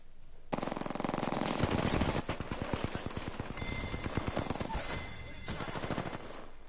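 Rapid automatic gunfire in Apex Legends on PS4, a loud sustained burst of closely spaced shots followed by shorter rattling bursts, close and dominant.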